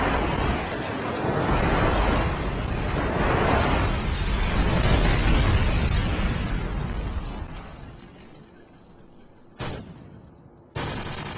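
A long, rumbling roar of airstrike explosions in Call of Duty 4: Modern Warfare, loud and continuous for several seconds before fading, then two sharp, sudden blasts near the end.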